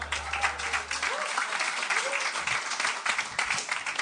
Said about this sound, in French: Mesdames et messieurs, une bonne applaudissement.